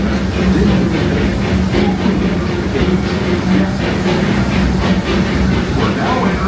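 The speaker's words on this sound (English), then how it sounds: "welcome aboard the Disneyland Railroad" The Disneyland Railroad train rolls along with a steady loud rumble and rhythmic rail clatter, heard from aboard a carriage, with a faint voice underneath.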